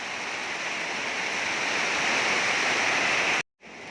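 Steady heavy rain pours down in a continuous loud hiss that swells slightly, then cuts out abruptly near the end before briefly returning.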